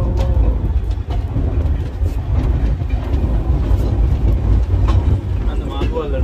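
A steam train on the Chasewater Railway in the UK runs with a continuous loud, rumbling roar and faint rhythmic rail clatter, heard close up as if from onboard.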